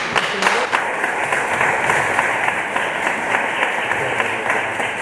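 Audience applause at a round-table discussion on a Guardia Civil barracks, a dense, sustained burst of clapping from a room full of people that rises quickly and holds steady, close and loud.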